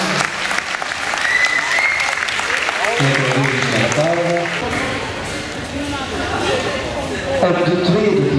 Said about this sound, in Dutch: En een warm applaus voor deze heren.